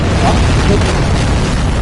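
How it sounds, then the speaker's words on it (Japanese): A video game explosion from shot explosives in RoboCop: Rogue City, a loud, dense, sustained rumbling blast filling the whole short moment with heavy low-end boom and no clear decay. "爆発物撃ったらダメだった"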